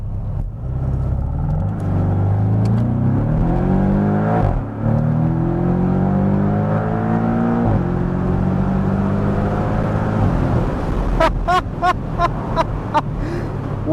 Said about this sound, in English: Now I got foot on the brake, foot on the gas, and we'll go.